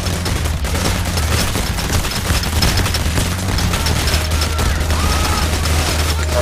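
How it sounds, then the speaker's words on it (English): Dense, continuous gunfire from the Payday The Heist video game during a Heat Street heist, a loud sustained fusillade of overlapping shots and bursts with no pauses. "I just ran into a billion bullets at once."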